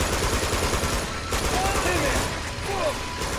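Sniper gunfire in the video game Uncharted 2 sits inside a dense, loud, continuous wash of game noise and combat sounds that stays fairly even for a few seconds.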